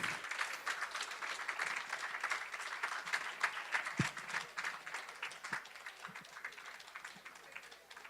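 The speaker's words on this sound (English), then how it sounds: "A big round of applause," Audience applause for honorees at a formal gathering honoring Rabbi Yechiel Eckstein, steady, moderately faint clapping from a crowd lasting throughout, with a few low thumps and no talk over it.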